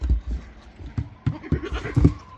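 Goats on a homestead bleating repeatedly in short, nasal calls, several animals close by, with faint background noise and no speech.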